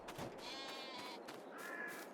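Sheep bleating in Farming Simulator 22, a few overlapping wavering bleats from a flock heard fairly close over a steady background rumble.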